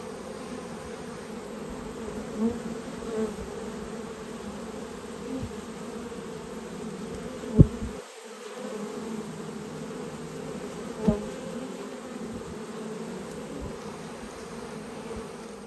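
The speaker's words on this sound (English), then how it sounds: "So this is the Australian Queen Bee Breeders Italian bees." Dense buzzing of many Italian honey bees at a hive, a continuous close drone with a few brief knocks and bumps.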